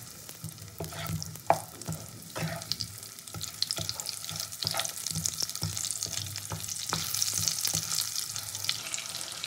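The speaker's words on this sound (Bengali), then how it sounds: "আলুগুলো একটু নেড়ে নেবো তেলের উপরে।" Potatoes frying in hot oil with steady sizzling, broken by frequent clanks and scrapes of a spatula stirring them in the pan. The sound is close and continues throughout, with no voices.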